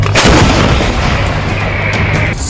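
Israeli army artillery shells being fired: a loud, close blast opens with a heavy boom that rumbles and decays across the short stretch.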